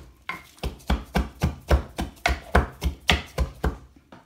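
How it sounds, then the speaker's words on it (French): Onion and garlic pounded in a mortar, about sixteen evenly spaced thuds in a steady rhythm, close and fairly loud with no talk. "j'ai écrasé mon oignon, l'ail"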